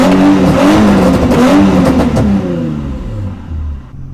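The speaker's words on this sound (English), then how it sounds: "I'm gonna give you guys some free revs" A Nissan 350Z fitted with a lightweight crank pulley revs loudly up close, engine note rising and wavering before dropping back toward idle, with no talk over it.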